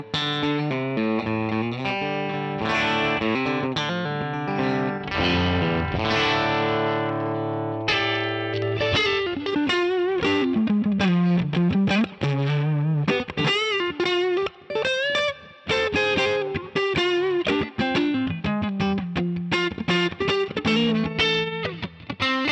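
An electric guitar played through a UAFX Dream '65 Reverb amp pedal into a 2-rock 2x12 extension cabinet rings out with chords and then busy single-note lines, slightly driven with reverb, loud and continuous without talking.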